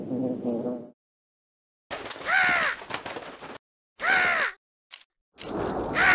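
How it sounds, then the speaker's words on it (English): In the Ready for Math with Pooh video game, a crow caws in a garden several times, with loud, harsh, separate calls broken by silent gaps, following a brief spoken line. "that scarecrow certainly scared one crow"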